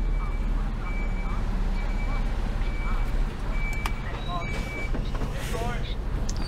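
A Mercedes Actros tipper truck reverses with repeated evenly spaced beeping over a heavy engine rumble, while people talk throughout.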